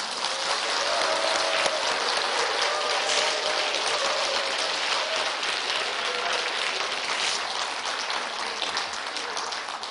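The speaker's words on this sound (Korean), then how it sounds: "여러분들이 힘찬 박수 좀 쳐보세요." A large audience at a national tea-culture leaders' training event claps steadily and loudly, a dense wash of applause sustained for the full length without pause.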